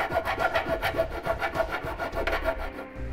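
Rhythmic rasping strokes of a file or reamer enlarging bare metal mounting holes in the frame of a 2014 Subaru XV, close and steady for about three seconds with no talk.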